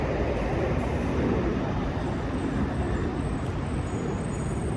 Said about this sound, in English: Hold on, let this train go by.